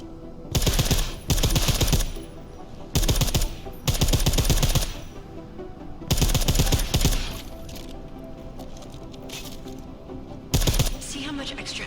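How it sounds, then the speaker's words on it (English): Silenced weapons fire in the video game Deus Ex Mankind Divided, in rapid bursts of muffled, thudding shots separated by short pauses. Someone talks over parts of it. "How silencers reduce sound, but the trade-off is less stopping power,"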